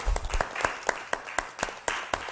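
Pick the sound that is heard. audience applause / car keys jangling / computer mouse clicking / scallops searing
audience applause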